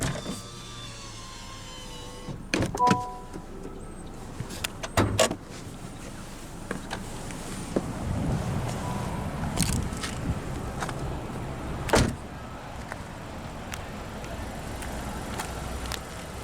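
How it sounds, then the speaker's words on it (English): A 2024 Honda Civic Touring's driver-side power window whirs as it rolls down, with a few sharp clicks and knocks around it and quiet background noise. "now we'll roll down the driver's window"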